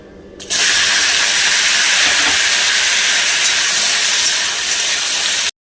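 Chopped okra hitting hot oil in a wok with black cumin seeds, an Indian home kitchen okra curry: a sudden loud, steady sizzle erupts and holds at full strength for about five seconds, then cuts off abruptly.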